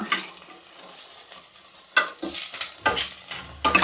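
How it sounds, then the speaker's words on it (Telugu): Onions frying in a pot for chicken biryani, with a soft sizzle broken by several loud scraping stirs of a spoon against the pot, close up and without talking. "ఇంకా ఇలా కలిపేసుకుంటూ వేపుకోవాలన్నమాట"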